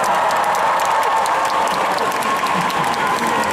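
Concert audience at a Daegu gala show applauding and cheering loudly and steadily, a dense wash of claps with crowd voices throughout.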